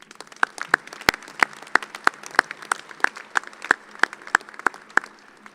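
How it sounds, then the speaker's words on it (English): A commencement audience at an engineering graduation claps for family and mentors, a moderately quiet round of applause with sharp, distinct claps in a steady scatter that continues throughout. "Let's give them a round of applause."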